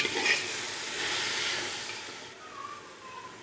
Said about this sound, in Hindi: इस टाइम पे आके देखें हमारा जो कीमा है उसकी अच्छे तरीके से भुनाई हो रही है